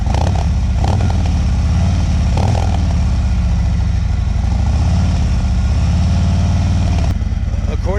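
A Harley-Davidson Street Glide ST fitted with tab mufflers and performance-tuned head pipes idles close by, a loud, deep, lumpy V-twin rumble with a couple of brief throttle blips.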